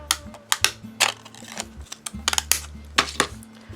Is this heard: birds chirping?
no